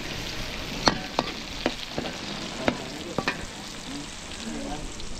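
Garlic and onion sauté in a pan while cooking in bulk for a large outdoor event, a steady sizzle broken by sharp scrapes and clinks from a stirring utensil at irregular moments.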